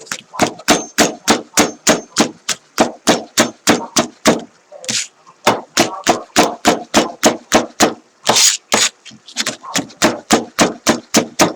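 Rapid, steady knife chops on a cutting board while ingredients are cut for ricotta ravioli with beef tomato sauce, nearly 30 sharp strikes in an even rhythm with a few short pauses, close and loud.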